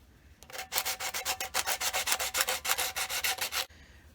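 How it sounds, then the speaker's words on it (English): Close-up sanding on a wooden smoking pipe: fast, even back-and-forth strokes with a rough scratching texture, about twenty in a row, then it stops. "we'll give it a little bit of sanding to smooth it out a little bit"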